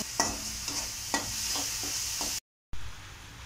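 Onions and dried red chilies frying in a pan for a Kerala-style long bean stir fry, a steady close sizzle with a few stirring scrapes, cut off by a brief gap of silence before the hiss resumes.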